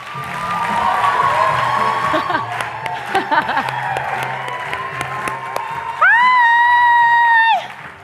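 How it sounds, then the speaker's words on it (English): A festival audience at a personal-growth event bursts into loud applause and cheering, with dense clapping, whoops and shouts. A bright sustained electronic tone rises near the end, and voices mix in. "Give a big round of applause to Lisa Nichols."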